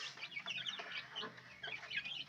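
Day-old chicks in a brooder cheep and peep continuously, a dense chorus of many high, overlapping chirps close by with no talking.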